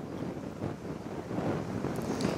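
Wind rushes steadily across the microphone in a low, continuous buffeting roar, with no voices.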